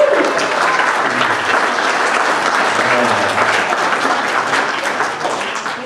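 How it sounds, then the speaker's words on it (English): A church crowd cheers and applauds loudly and continuously as a boy races around the church building during a Big Iron Day event, with shouting voices mixed into the steady roar. "Let's cheer him on."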